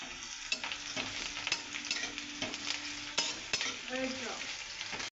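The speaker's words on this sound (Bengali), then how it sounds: "পেঁয়াজটা ভেজে নেবো" Onion frying in a hot pan with cumin, a continuous close sizzle broken by sharp scraping strokes of a stirring spoon.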